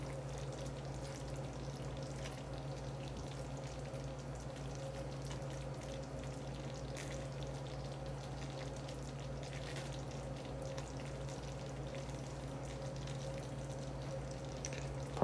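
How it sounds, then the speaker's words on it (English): A Christmas crack candy mixture boils in an enamel cast iron saucepan as it is stirred, making a quiet, even bubbling and low hiss over a steady background hum. "we have indeed brought this to the boil"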